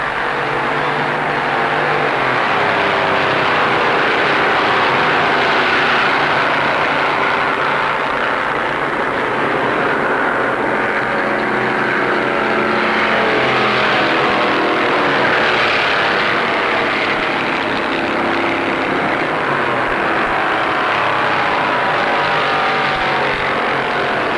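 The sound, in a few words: Plymouth race cars at Daytona International Speedway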